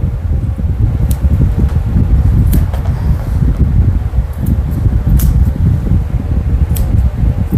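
A grooming dryer blows a loud, steady rush of air onto a Pekingese dog's legs, close to the microphone, with faint clicks and rustles scattered through the noise.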